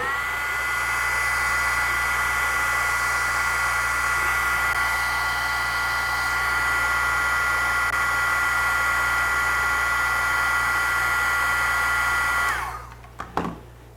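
Heat gun shrinking tubing over the wire of a fishing snubber for kokanee, a steady loud blowing whine held for about twelve seconds before it cuts off, followed by a couple of small clicks.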